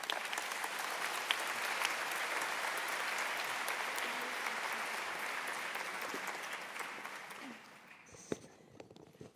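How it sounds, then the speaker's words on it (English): An audience at a machine-learning conference invited talk breaks into sustained applause, a dense even clatter of many hands that tapers off near the end, leaving faint room noise and a few scattered claps. "Let's give him a round of applause again."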